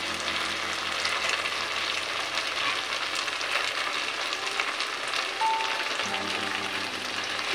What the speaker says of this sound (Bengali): এবার আমি হাফ ভেজে রাখা মাছগুলো দিয়ে নেব